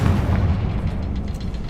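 A Confringo blasting curse explodes in Hogwarts Legacy: a loud, sustained booming blast with heavy low rumble and broad crackling noise that fills the whole moment with no voices.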